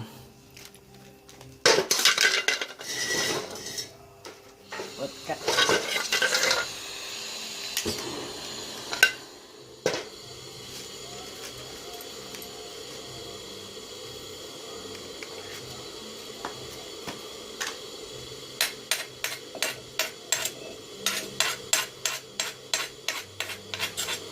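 Metal utensils clink and scrape against a pan while cooking Nan-style salae curry, with scattered knocks and a quick run of rhythmic taps toward the end.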